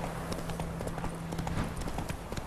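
Horse hooves gallop across ground in The Witcher 3 video game, a rapid run of soft clip-clop beats under game ambience, moderately faint and steady.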